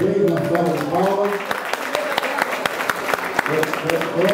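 An audience applauds at a formal ceremony, a steady patter of many hands clapping while a voice talks over the start and end.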